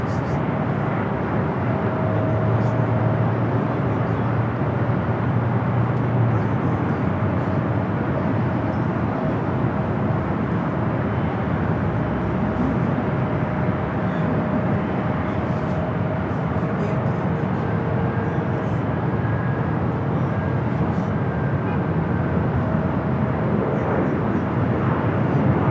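A Hawaiian Airlines Airbus A330 jet at LAX, a loud, continuous broad engine roar that holds steady throughout, with a faint tonal whine riding on top.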